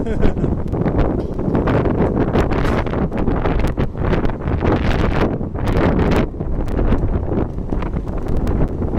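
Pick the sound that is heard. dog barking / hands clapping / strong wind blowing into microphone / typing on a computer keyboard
strong wind blowing into microphone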